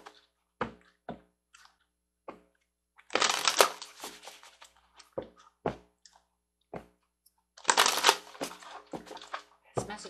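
Akashic oracle cards being shuffled by hand, two longer riffling bursts separated by scattered soft taps and flicks of the cards, close and fairly quiet with no talking.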